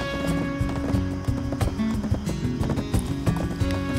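Hoofed goat companion running in Black Desert, a quick busy clip-clop of hooves over layered game music, steady and close throughout.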